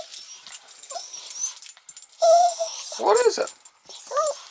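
A young puppy whimpers close by in a series of high, wavering whines, louder toward the middle and end, with someone speaking over and between them.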